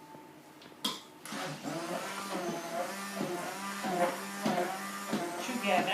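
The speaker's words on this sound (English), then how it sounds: "So this is flour and baking powder being mixed with my handy blender." A handheld electric blender whirs steadily as it mixes flour and baking powder for holiday sugar cookies. The motor drones continuously at close range, with a voice speaking briefly over it.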